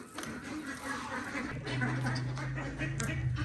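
A flock of ducks quacking noisily as they crowd around scattered grain feed, overlapping calls close by, with a low continuous hum underneath.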